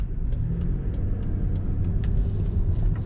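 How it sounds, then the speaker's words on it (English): A 2004 Chevrolet Monte Carlo SS Dale Earnhardt Jr. edition with very low mileage cruises along, its cabin filled with a steady low road rumble and engine drone. "Today we're driving a 2004 Chevrolet Monte Carlo."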